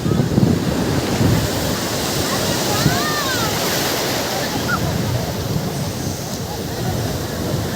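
Steady roar of ocean surf with wind buffeting the microphone, loud and continuous, with faint voices in the background.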